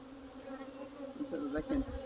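Angry honey bees buzz in a steady, close swarm drone around an open hive box, with individual bees whining louder as they pass near.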